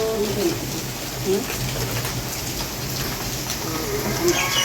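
Heavy monsoon rain pours down in Kerala, a dense, continuous hiss of drops striking surfaces close by, while people talk over it.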